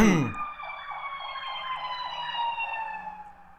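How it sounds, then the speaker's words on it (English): A wailing emergency siren sweeps up and down steadily in the distance, fairly loud and continuous, with no talking. "You hear those sirens?"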